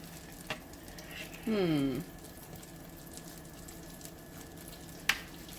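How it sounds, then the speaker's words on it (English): Black bean patties sizzle steadily in a hot pan, with a brief louder crackling burst partway through and a sharp click near the end. "you let those fry up just like that in the pan"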